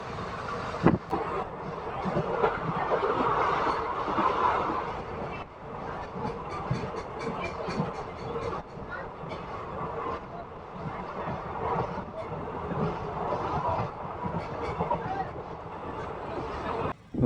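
From inside a Dharmavaram–Narasapuram passenger train running at over 100 km/h comes a steady, loud rumble with rhythmic wheel clatter on the rails.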